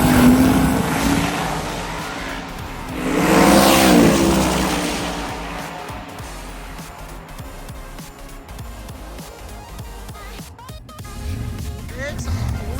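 Drag race cars launching side by side at a Sick Week drag event, including a Camaro, with a loud engine roar swelling and then fading into the distance, under an announcer's ongoing commentary.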